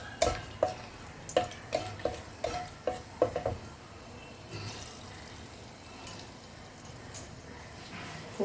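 Whole cardamom pods, cinnamon sticks and cloves crackle softly in hot oil for a chicken salan, with a run of quick spoon scrapes early on, then a low, steady sizzle and a few scattered clicks.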